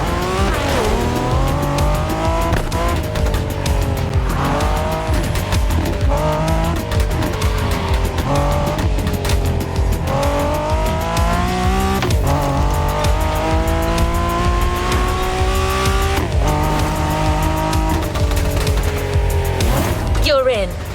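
A 1969 Camaro Z28 racing in The Crew Motorfest, its V8 engine revving up through gears in rising sweeps with shifts between them and tire squeal, loud and continuous, with voices talking over the engine.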